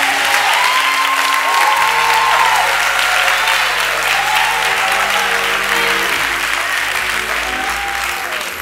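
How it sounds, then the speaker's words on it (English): A church congregation claps loudly for the music department, a dense, continuous burst of applause close by, with organ or keyboard chords sounding underneath. "Let's give God a hand clap for our music department."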